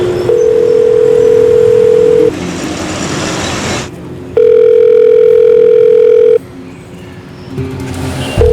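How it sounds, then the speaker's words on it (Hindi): A telephone rings loudly in an office-like setting, its electronic tones alternating with pauses and a low background hum, no voices present. "पुलिस कमिश्नर साहब का फोन आया है, आपसे बात करना चाहते हैं।"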